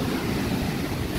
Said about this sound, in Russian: Прямо за меня волна дышит.